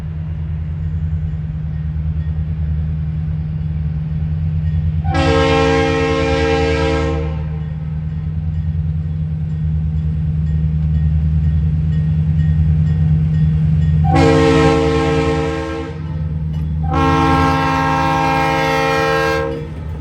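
A freight train horn sounds three times, long blasts with a pause before the last two, over a steady low rumble of the train passing near Medford, Oregon.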